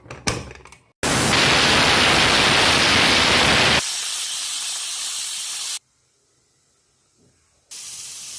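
A pressure cooker with bitter gourd curry lets out loud, close, steady hissing steam in several long bursts, with abrupt breaks of near silence between them.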